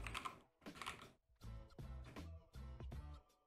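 Keys tapped on a computer keyboard while a pip install command is entered, heard as four close bursts of rapid clicking separated by short pauses, fairly quiet with no talking.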